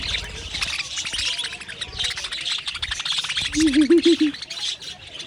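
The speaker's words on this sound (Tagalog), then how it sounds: "Kala ko lovebirds ito. Nag-aagawan na sila." Lovebirds squabble while feeding from an outstretched palm, giving a burst of sharp chirps and squawks up close, with a brief rapid trilling call near the end over steady background chatter.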